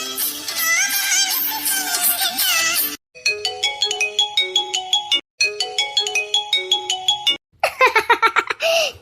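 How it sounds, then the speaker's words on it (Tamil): A phone rings with an incoming call, a loud melodic ringtone repeating in bursts separated by brief silences, ending in a different, higher chirping phrase. "ஜான் எனக்கு ஃபோன் பண்றான"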